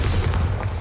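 Bombarda blasting spell explosion in Hogwarts Legacy, a dense, booming low-end blast that stays loud and rumbling throughout the short moment.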